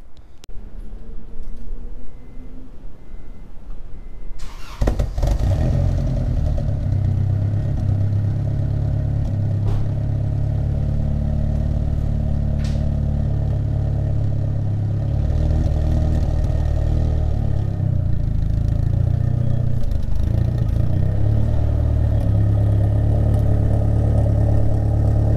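A turbocharged Honda Accord engine cranks and fires up after a quiet start, then settles into a steady, loud, close-up idle with a low rumble and some clatter.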